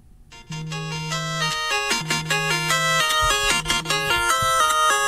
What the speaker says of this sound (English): Shout out to the old school NES ringtones.